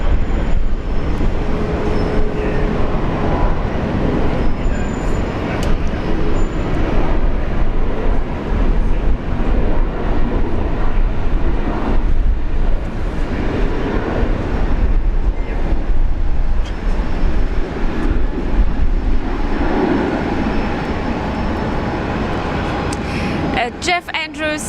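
An Air New Zealand A320neo airliner rolling for takeoff at Brisbane International Airport on a windy morning, a loud, steady, broad roar of jet engines that holds throughout with wind noise, and a voice speaking over it.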